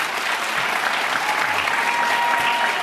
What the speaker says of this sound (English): I thought I could get an applause line out of that